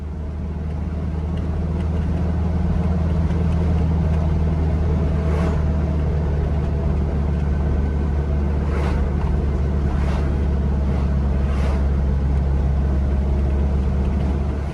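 An old Toyota Hiace LH-172 van climbs a mountain road at Nam Nao, its engine a steady, deep droning rumble under constant wind and road noise, with a few faint clicks and no talking.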